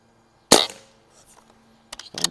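A Barra 1100z .22 caliber PCP air rifle fires in a backyard plinking session: one sharp, loud close crack with a short tail, then a second shot about 1.5 seconds later.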